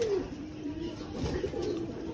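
Domestic pigeons kept for kabootar bazi flying coo nearby in a low, wavering run of notes that rises and falls over a couple of seconds, with faint background murmur.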